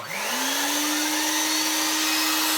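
A restored 1990 Vax 121 3-in-1 vacuum cleaner motor spins up from start and settles into a steady, loud, close whine with a bright tonal hum, running alone without talk.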